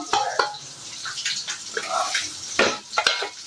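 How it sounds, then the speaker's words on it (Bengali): Hot oil crackles and sizzles unevenly with scattered pops and bursts of spitting, close and moderately loud, as black cumin and dried red chillies temper in oil for lentils. "মসুরির ডাল কালো জিরে শুকনো লঙ্কা দিয়ে ফোড়ন"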